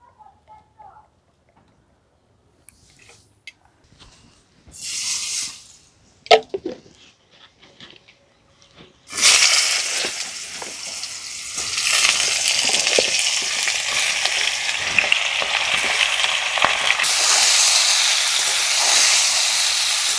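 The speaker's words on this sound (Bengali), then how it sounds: "পটলটা ভেজে নেব" Pointed gourd (potol) pieces drop into hot oil in a wok and break into a loud, steady sizzle that carries on to the end, preceded by a few quiet clinks and short bursts of hissing.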